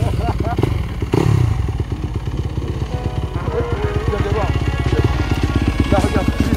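A Yamaha YZF 250 dirt bike engine runs nearby, a loud, steady rattling putter with blips of revving, while a person talks over it.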